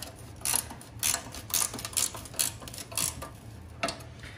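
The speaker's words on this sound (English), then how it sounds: "take our 1/2 inch wrench and tighten things back up." Half-inch ratchet wrench tightening bolts on a snowblower, a run of quick clicking bursts in an irregular rhythm, close and fairly faint over a low steady background.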